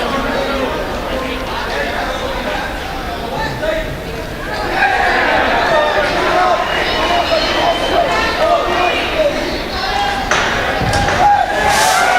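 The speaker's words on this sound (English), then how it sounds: "May hear in the background lots of cheering" Cheering and chatter from a crowd at a World Ninja League Championships course, steady and fairly loud throughout, swelling partway through, with people talking over it.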